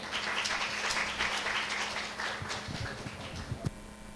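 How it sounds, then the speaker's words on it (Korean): An audience applauds to welcome a lecturer onto the stage at a talk on the fourth industrial revolution, sustained dense clapping that thins toward the end with a few louder individual claps. "큰 박수 부탁드리겠습니다"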